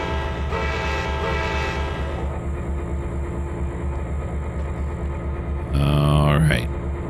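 A train reversing in the Trainz 2022 railway simulator, with a steady rumbling diesel engine drone throughout, then a loud horn blast near the end, over brief background talk.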